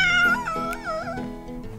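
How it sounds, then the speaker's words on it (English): A hairless Sphynx cat meowing close and loud, a few drawn-out, wavering cries with rising and falling pitch in quick succession, with no other sound. "That's a Sphinx cat."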